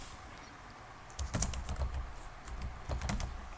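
Fingers type on a computer keyboard. After about a second of quiet, clusters of quick, close key clicks follow in two short bursts.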